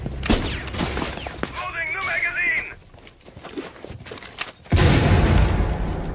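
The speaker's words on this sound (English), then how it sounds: "Phenomenal frag grenades still coming" Frag grenade explosions and gunfire in the Rainbow Six Siege tactical shooter, with sharp shots and bursts scattered across the clip and a heavy blast near the end, mixed with game effects and background voices.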